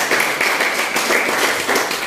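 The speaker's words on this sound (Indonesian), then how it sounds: "tepuk tangan untuk dia" A classroom of students claps for a classmate who has just presented a conclusion, a dense, steady burst of applause lasting about two seconds with no gaps.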